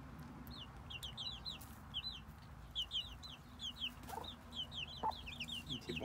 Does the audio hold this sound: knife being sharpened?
no